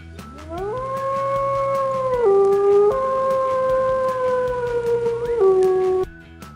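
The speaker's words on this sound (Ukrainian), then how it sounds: "Це вовк." A wolf howls alone in the wild: a long, loud, rising and sustained howl that drops in pitch twice before breaking off, with no voices present.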